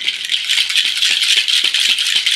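A buziobi, a face-massage device played as an instrument, gives a steady bright buzzing rattle with fast rhythmic pulses, loud and close, with no voices.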